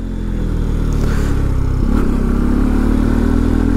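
Benelli TNT 135 small motorcycle engine idling and revving, a steady, loud mid-pitched engine drone that dips briefly and then climbs again, heard close up with no speech.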